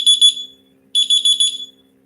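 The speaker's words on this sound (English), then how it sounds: "And an alarm." An electronic alarm sounds in two short bursts of shrill, rapid beeping, loud and close, with a brief silent gap between them.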